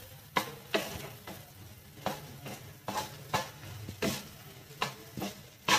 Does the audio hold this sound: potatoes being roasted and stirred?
yes